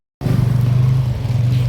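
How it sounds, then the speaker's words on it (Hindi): Road traffic in a town, a vehicle engine idling or rumbling close by with a steady low drone that starts abruptly and continues without speech. "ट्रैफिक देखो गाइस"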